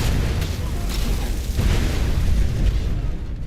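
Explosion in the video game Skyrim, set off in a room full of enemies: a dense, sustained low rumbling blast with crackling bursts, loud and continuous throughout.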